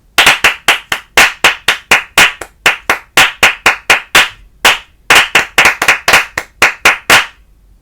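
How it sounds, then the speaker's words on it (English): A music class claps rhythm-reading lines, sharp loud hand claps in quick rhythmic groups with brief pauses between phrases, close and alone. "just clap your line."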